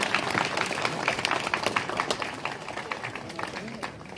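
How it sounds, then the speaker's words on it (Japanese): An audience at a vintage Meguro motorcycle gathering applauds as an exhibitor is called forward, a steady wash of many hands clapping under ongoing talk from a host. "拍手お願いいたします。"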